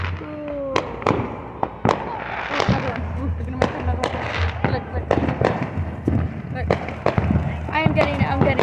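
Outdoor fireworks and firecrackers pop and bang in rapid, irregular bursts, some sharp and close, others duller, with whistling trails and a steady background rumble while people talk and react throughout.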